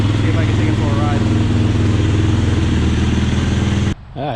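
A 2007 Yamaha YFZ450R quad idles close by with a steady, throbbing single-cylinder rumble and a few light blips before it drops off sharply near the end.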